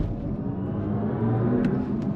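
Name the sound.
electric BMW car accelerating hard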